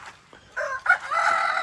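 A rooster crows close by, a short broken call rising into a sustained crow lasting about a second.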